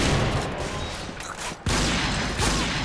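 Rapid, dense automatic gunfire from the Point Blank shooter video game, loud and close, with a brief dip partway through before the firing resumes.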